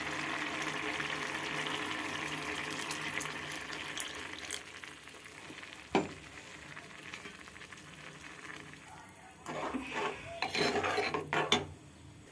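Tamarind squeezed by hand in water for a curry, heard as close wet rubbing and squelching that grows louder and choppier in bursts toward the end.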